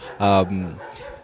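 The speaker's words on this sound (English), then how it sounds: "if you can hear dogs barking, it's part of our ambience." A dog gives a single short, sharp bark with a brief yelping tail, heard nearby in the background of an outdoor neighbourhood setting.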